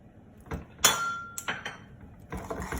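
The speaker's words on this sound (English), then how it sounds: "whisking well in till all the butter is melted, then combined" A whisk knocks against a bowl while butter and egg are mixed into semolina cake batter. There are a few sharp, separate clinks, with quiet scraping in between.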